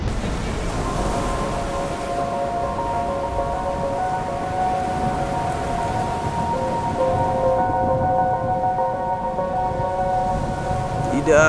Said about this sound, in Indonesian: Badai ini tidak wajar.